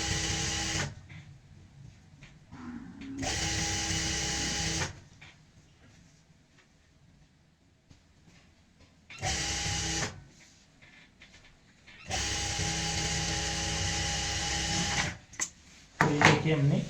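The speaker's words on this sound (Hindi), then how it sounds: "यहाँ पे पक्का करके हम सिलाई की शुरुआत करते हैं।" A sewing machine stitches fabric for a circle palazzo in bursts of steady, loud motor whirring, running about four times and separated by quieter pauses.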